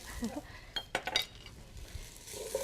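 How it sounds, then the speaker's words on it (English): A teaspoon of mustard seed is added to a pan holding onion: a few sharp metal spoon clinks against the pan, then a soft, quiet sizzle. No one speaks. "I'm going to put a tablespoon of mustard seed. I mean a teaspoon"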